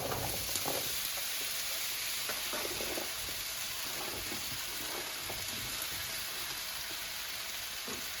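Potatoes frying in olive oil in a one-pan dish with ground turkey, giving a steady, dense hiss and crackle that holds evenly throughout, close up with faint scattered pops.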